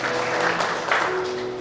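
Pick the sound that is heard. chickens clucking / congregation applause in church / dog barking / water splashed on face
congregation applause in church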